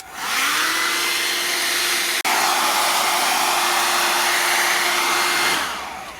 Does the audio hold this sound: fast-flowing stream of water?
no